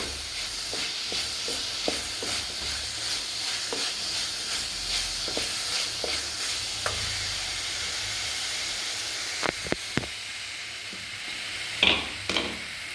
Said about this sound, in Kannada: ಸ್ವಲ್ಪ ಫ್ರೈ ಆದರೆ ಸಾಕೋದು ಮಸಾಲೆ ಪೌಡರೆಲ್ಲ